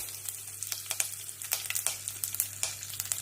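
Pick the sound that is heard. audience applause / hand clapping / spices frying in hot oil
spices frying in hot oil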